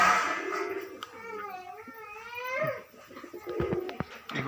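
Domestic pigeons kept for sale cooing nearby, a soft wavering throaty coo rising and falling over a couple of seconds amid faint background noise.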